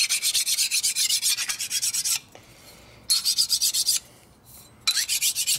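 A hand file rasps burrs off a metal part during work on a 1999 80ci Evo motorcycle, with quick rhythmic strokes in three close, loud bursts separated by short pauses.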